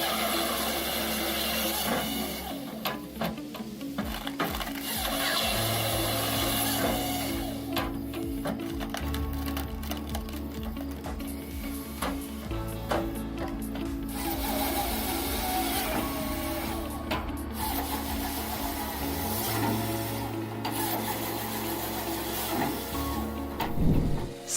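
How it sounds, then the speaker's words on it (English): Hahn HFP 160 firewood processor handling logs up to 12 inches in diameter, giving a steady loud mechanical drone with shifting low hydraulic tones and intermittent cutting bursts throughout. "the Hahn HFP 160 firewood processing machine is capable of processing logs up to 12 inches in diameter, turning giant logs into valuable resources"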